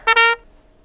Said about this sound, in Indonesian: itu suara terompet.